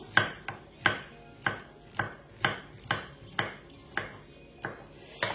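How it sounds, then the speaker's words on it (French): A knife slices a peeled half banana into rounds on a cutting board, about a dozen crisp, evenly spaced taps up close, with no talking. "couper en deux dans un premier temps, et notre demi-banane en rondelles."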